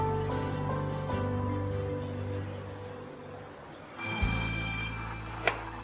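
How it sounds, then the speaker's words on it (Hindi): A phone rings with an incoming call, a steady electronic ring tone sounding over a low hum, cutting off and restarting near the end with a brief clunk. "सेलिन का फोन है।"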